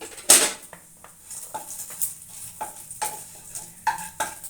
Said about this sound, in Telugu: 1/2 టీ స్పూన్ ధనియాలు, 1/2 టీ స్పూన్ జీలకర్ర, 1 స్పూన్ శనగపప్పు వేసుకొని ఫ్రై చేసుకోవాలండి